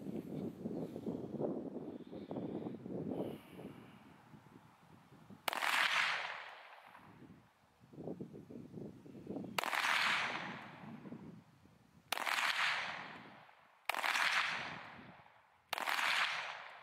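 Gunshots fired at a 16TB Seagate Ironwolf Pro hard drive: five sharp, loud cracks, each followed by a long echoing tail, spaced a few seconds apart, with quieter handling noises and low murmurs between them.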